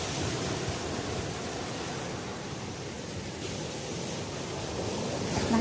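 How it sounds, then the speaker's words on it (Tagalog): Strong sea waves on the coast of Zambales roar as a steady, broad rush of surf, close and continuous, with wind buffeting the microphone and no talking. "Ang lakas ng alon."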